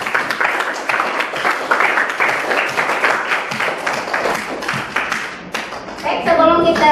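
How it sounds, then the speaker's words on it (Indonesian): A classroom group applauds together, a dense, steady patter of many hands at moderate volume that thins out near the end as a voice begins over it. "Oke, tepuk tangan buat kita semua."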